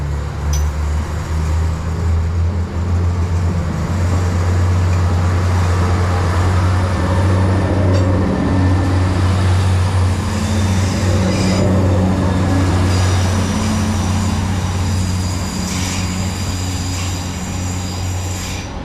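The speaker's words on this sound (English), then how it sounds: "3016, now departing, heading up to Bangor" Train 3016 pulls out of Botanic station, Belfast, bound for Bangor: a loud, steady low rumble of the railcars with sharp wheel squeals and rattling over the track that continues without letting up, no talk over it.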